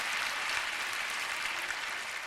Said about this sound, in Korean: 이런 건 박수 한번 쳐주십시오